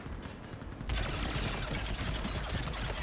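Sustained heavy gunfire from a mounted gun in the Mass Effect 3 battle, starting abruptly and holding as a loud, dense, continuous clatter to the end.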